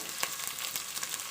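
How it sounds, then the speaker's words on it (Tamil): Onions sauté in a hot pan with salt for chicken biryani, giving a steady, soft sizzle with faint crackles, continuous and close, no voices. "கோல்டன் ப்ரௌன் கலர் வர வரைக்கும் நம்ம வெங்காயத்தை போட்டு வதக்கிக்கலாம்."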